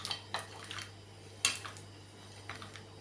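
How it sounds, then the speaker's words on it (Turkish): Melting dark chocolate ganache stirred in a pot, with a few light clinks and scrapes of a utensil against the metal, scattered and fairly quiet over a steady low hum. "Ve güzel bir şekilde karıştıracağım. İyice eriyene kadar."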